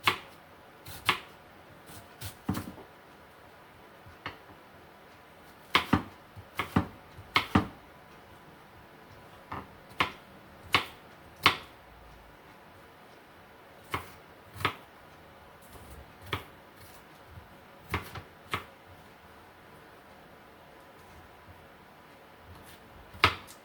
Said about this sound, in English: I have some onion here that I'm gonna chop real fine